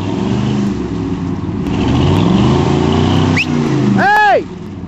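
A two-wheel-drive truck's engine roars and revs steadily while backing up through mud, loud and close, with people shouting over it and a sharp whistle near the end before the engine drops off.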